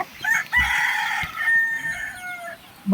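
A rooster crows loudly and nearby in the morning, one long drawn-out call with a rising then falling tail, with faint clucking around it.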